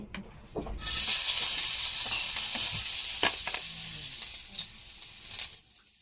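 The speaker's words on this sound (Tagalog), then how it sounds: "Magigisa na tayo." A small amount of oil in a blackened, well-used wok bursts into a loud, steady sizzle that holds as a continuous hiss, with faint scraping and clinks from stirring over it.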